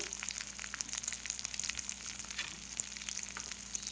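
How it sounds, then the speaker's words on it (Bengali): Dried red chillies and nigella seeds sizzle in hot oil as a tempering for a Bengali hilsa-head and ash gourd dish, giving a steady, fairly quiet crackle with scattered sharper pops and no voices. "শুকনো লঙ্কা আর কালো জিরে দিয়ে দিলাম"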